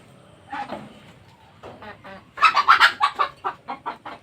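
Brahma-native cross hens cluck in a quick run of short, close clucks, a few scattered at first then a dense burst of rapid calls.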